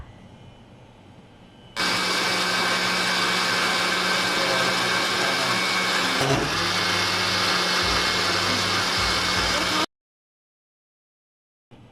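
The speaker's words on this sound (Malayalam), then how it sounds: "ഇനി ജാർ അടച്ച് നന്നായിട്ട് ബ്ലെൻഡ് ചെയ്തെടുക്കുക." A kitchen blender whirs loudly and steadily for about eight seconds while blending horchata, with a brief stutter midway, then cuts off abruptly into silence.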